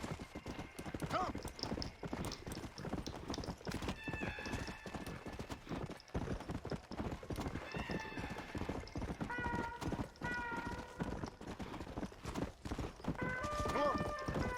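Rapid, steady clip-clop of galloping hooves throughout in Red Dead Redemption: Undead Nightmare, with occasional horse whinnies and tonal game sounds layered over it.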